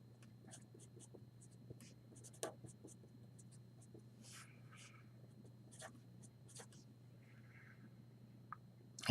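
Marker or pen writing on a board while drawing the chemical structure of ethanolamine, with soft scratchy strokes in short bursts over a steady low hum, close and fairly quiet.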